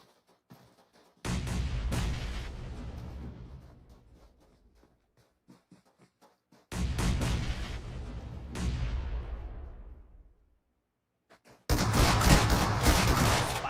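PUBG Mobile tournament gunfire: three heavy bursts of shots and blasts, each a loud sustained roar that fades away, separated by near-silent gaps, the last one cut off abruptly.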